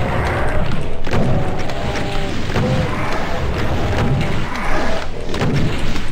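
A super shotgun fires in a Doom-style first-person shooter, booming in heavy, muffled blasts about once a second amid dense, noisy game action.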